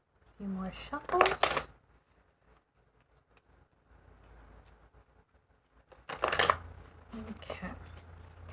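Tarot cards being shuffled in two crisp, riffling bursts, close and fairly loud, separated by a quiet pause with faint rustling.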